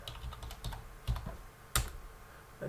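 Keys clatter on a computer keyboard while a Git commit message is typed, a quiet run of irregular taps with a couple of sharper, louder strokes and no talking.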